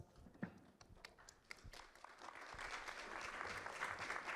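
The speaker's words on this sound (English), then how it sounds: "Please give them a round of applause." An audience at an Asia CCUS Network Forum claps for the panel speakers, a faint, scattered applause that thickens into steady clapping toward the end.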